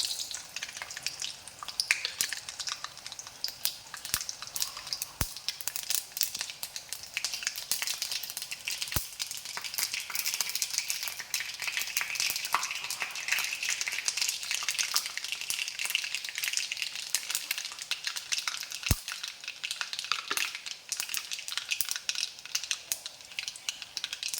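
Mustard seeds sizzle and crackle steadily in hot oil in a wok-style pan, a dense continuous hiss with occasional sharper pops, close and even throughout, with no voices.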